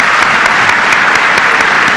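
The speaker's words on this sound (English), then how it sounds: "So now let's give a round of applause for this distinguished group." Audience at a club luncheon gives a loud, sustained round of applause, dense clapping from many hands filling the room evenly without pause.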